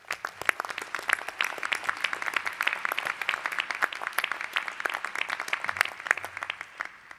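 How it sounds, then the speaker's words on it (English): Audience at a new lawyers induction ceremony in Texas gives a sustained round of applause, dense overlapping claps filling the hall steadily for several seconds. "Please give them a round of applause."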